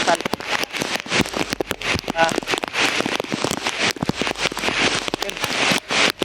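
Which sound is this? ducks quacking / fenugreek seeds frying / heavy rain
heavy rain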